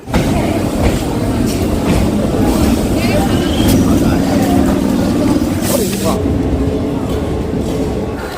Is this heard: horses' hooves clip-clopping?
no